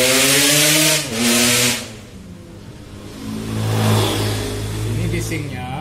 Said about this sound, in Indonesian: Ini bisingnya cuman motor ya.